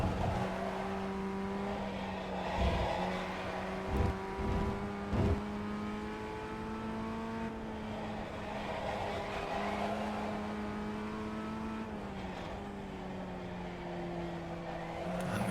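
FF1600 and Formula Vee race cars circulating at Motorsport Arena Oschersleben during a multiclass race, engines droning steadily with rising and falling pitch as they shift and accelerate, heard from onboard at a moderate, constant level.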